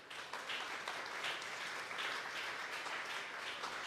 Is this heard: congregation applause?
yes